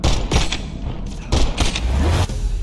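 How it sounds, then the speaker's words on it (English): Loud gunfire in a Call of Duty Black Ops 6 campaign mission, with heavy booming shots and rattling bursts over a dense, noisy battle background. "he's shooting at me before I even get the gun!"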